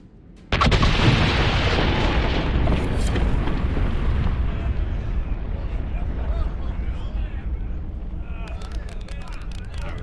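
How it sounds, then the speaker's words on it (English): Set charges detonate in Dragon Age: Inquisition: a sudden loud boom erupts, then a long rumbling roar of falling debris that slowly fades over several seconds, with a voice talking faintly beneath. "Charges are set. Is that going to blow up?"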